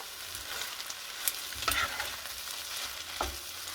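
Bean sprouts, spring onion and chives stir-fry for pad thai in a pan, giving a soft steady sizzle with a few brief scraping stir strokes, fairly quiet and close.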